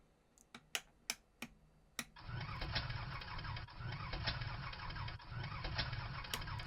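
A few sharp clicks sound, and then the engine of an Edgley Optica aircraft in Microsoft Flight Simulator 2020 starts. It becomes a steady, loud drone with a low, rhythmic pulsing that runs to the end.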